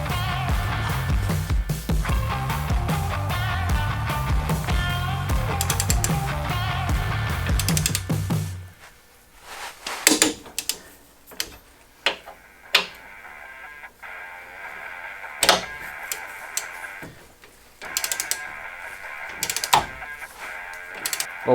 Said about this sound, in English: we're going to do a torque on them at 75 pounds